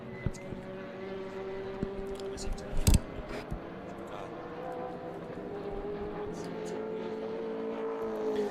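Race cars, including a Walkinshaw Commodore, battle down the straight at a night motor racing championship, a faint, sustained engine drone with a rising tone and a few sharp clicks, under steady commentary-level background.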